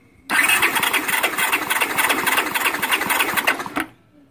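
A 1983 Honda GL650 motorcycle engine cranks on the starter during a compression test, a loud, steady rapid chugging whir lasting about three and a half seconds, close up and alone.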